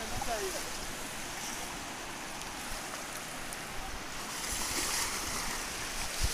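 River water at Bhimsen ghat near Netanar bridge, where children are bathing, a broad continuous wash of flowing water with wind buffeting the microphone, swelling louder toward the end.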